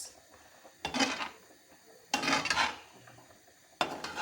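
Vegetables are stirred in a pan in three separate bursts of scraping and clanking from a utensil, each lasting about half a second with quiet pauses between.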